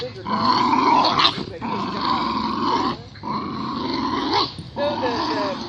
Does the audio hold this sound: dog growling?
yes